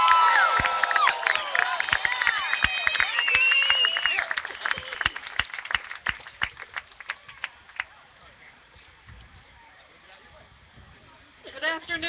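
Outdoor rally crowd in Orlando before a March Against Monsanto claps, cheers and whoops loudly, with children shouting, then the noise tapers to sparse claps before a fresh burst near the end.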